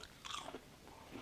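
Crunchy battered fried okra bitten into, a quick close crisp crunch followed by a few softer chewing crackles, quiet and alone without talk.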